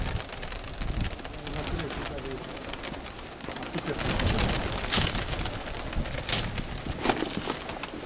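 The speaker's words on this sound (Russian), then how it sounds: "Подъем голубей." Pigeons coo and wings flutter in bursts as they take off from a loft amid outdoor commotion, with people talking nearby throughout.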